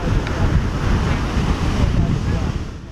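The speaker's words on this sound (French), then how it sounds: "seul le bruit des vagues effleure les oreilles" Ocean waves wash onto an empty beach, a loud steady surf roar mixed with wind buffeting the microphone, continuous and close throughout.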